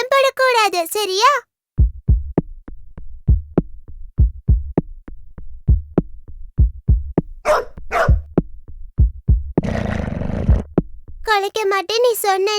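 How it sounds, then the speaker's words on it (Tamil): A dog barks in a rapid series of short, sharp barks, close and loud, between bursts of animated cartoon-style voices speaking. "கொலைக்க மாட்டேன் நீ சொன்ன இல்ல டைகர்"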